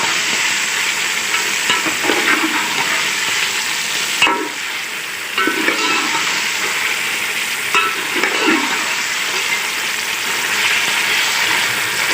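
Beef pulao fries in a pot with yakhni stock in a steady, loud sizzle. Occasional stirring scrapes come through every few seconds, and no one speaks.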